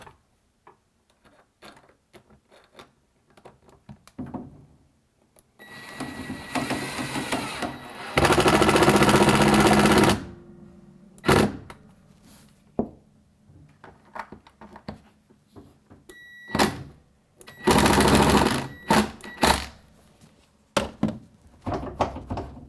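A powered screwdriver drives screws into a sliding closet door floor guide in two sustained whirring bursts, separated and surrounded by scattered clicks, taps and handling noise nearby.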